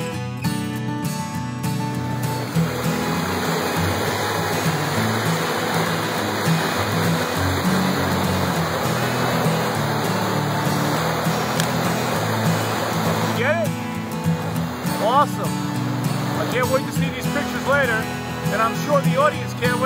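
A river rushing down a ravine toward a waterfall at Devil's Kitchen, a dense steady roar of flowing water that fills the whole stretch, with people talking briefly near the end.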